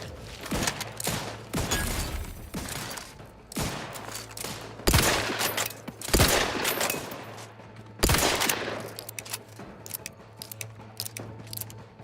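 The electric 'sparky gun' in The Outer Worlds 2 fires in loud, rapid volleys of crackling shots, several bursts spaced over the stretch with a steady low hum beneath, no voices.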